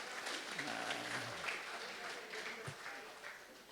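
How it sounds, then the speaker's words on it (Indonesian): A seated audience at a regional government forum applauds a senior figure being welcomed up, steady moderate clapping through the whole span with faint voices beneath. "Hadir tepuk tangan untuk Pak Rias ya kan."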